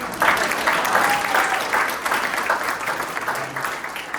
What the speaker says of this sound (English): Let me give a big round of applause for Rabbi Laurie.